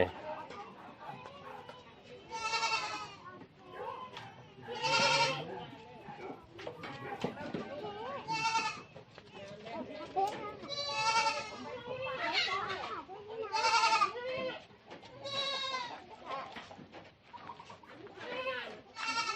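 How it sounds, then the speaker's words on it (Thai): Goats bleating in a village goat pen, repeated wavering bleats from several animals, some loud and close, spread across a busy background with chickens clucking and people talking. "มาดูกรงแพะกันนะครับ"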